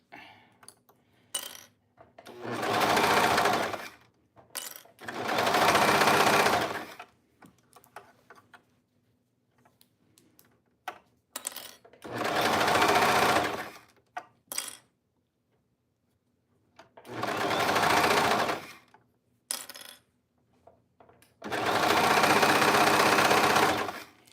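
A serger sewing machine stitches a T-shirt seam in five loud whirring bursts separated by quiet pauses. Small clicks and handling taps fill the gaps as the fabric is repositioned.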